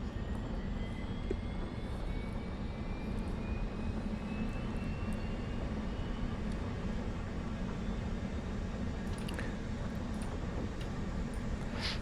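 An F/A-18's right engine cranks in the DCS flight simulator: a steady, even roar and hum with a slowly rising whine, constant throughout with no speech.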